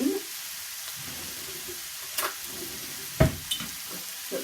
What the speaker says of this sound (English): You can hear it sort of hissing and sizzling as it goes